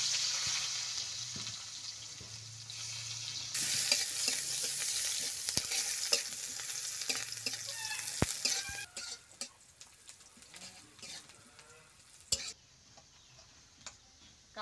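Chopped onion frying in oil in a village kitchen pan, a steady hiss of sizzling that swells louder partway through, with scattered ticks and clicks of stirring and no talking.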